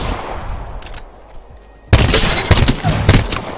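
Rapid bursts of G7 Scout rifle fire in the Apex Legends video game, loud sharp shots crowding together after a quieter stretch, with no talking.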